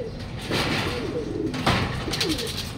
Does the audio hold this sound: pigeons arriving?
yes